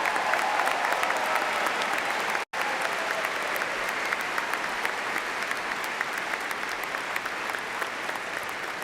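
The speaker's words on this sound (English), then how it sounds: "Let's give them a round of applause." Sustained applause from a large crowd fills a college commencement ceremony, steady and dense from start to finish with only a brief dropout.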